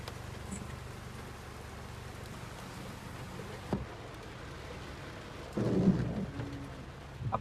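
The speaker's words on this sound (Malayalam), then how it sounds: "ഒടുക്കാത്ത മഴയാണ്, ഒടുക്കാത്ത മഴ, ഒന്നും കാണാൻ പറ്റാത്ത മഴ" Heavy rain pours steadily outside a car in Kerala during a drive with a broken wiper, with a distant rumble of thunder and a brief louder thump partway through, the downpour a constant hiss throughout.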